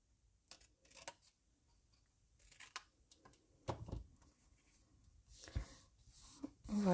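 Scissors snip small notches into paper for an Easter bunny basket, a series of close, crisp cutting and rustling sounds in irregular bursts with quiet gaps between them.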